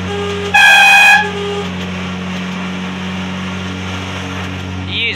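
A loud two-tone train horn on a locomotive approaching a tunnel blasts once for about half a second, harmonic and steady, over a constant low engine rumble that continues afterward.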